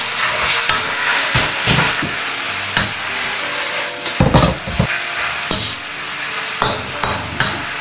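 Water spinach leaves are stir-fried in a hot wok with garlic, giving a steady sizzle broken by repeated scraping and clanking spatula strokes, loud and close with no talking.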